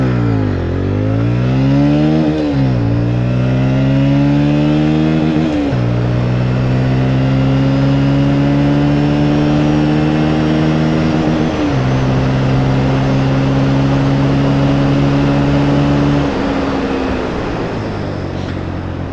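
A Bajaj Pulsar NS 125 motorcycle accelerates hard, recorded loud and up close. Its engine whine climbs repeatedly, dropping back at each of several gear shifts before rising again, and no speech can be heard.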